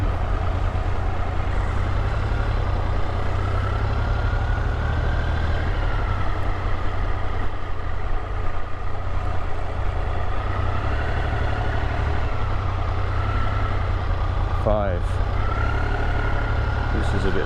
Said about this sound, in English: With all the lorries and all of that